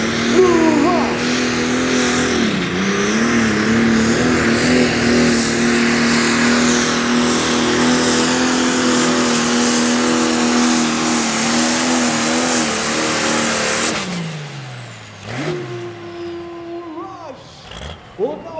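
A Pro Stock 3.5-ton tractor at a Füchtorf tractor pulling event roars at high revs through a long, sustained pulling run, loud and harsh, then drops off abruptly as the engine winds down near the end.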